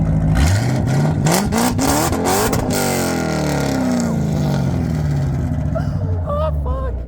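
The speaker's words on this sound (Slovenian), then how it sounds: "S to glasnega avta še nisem slišal, ko je šele vozil." A loud Ford Mustang engine revs up sharply from low to a high roar, then winds down in a long falling sweep with rumbling idle, close and dominant, with a brief voice audible near the end.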